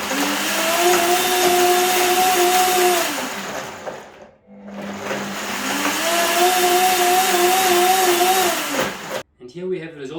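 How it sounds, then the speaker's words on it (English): A blender on smoothie mode whirs loudly in two long runs with a whining motor pitch that rises and settles, a brief pause between them. "So let's switch on the blender. We're choosing smoothie mode, and it's a 45-second process."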